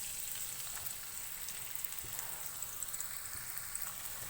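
Chopped onions frying in hot oil give off a steady, dense sizzle like light rain, with a few faint crackles and pops and no talking.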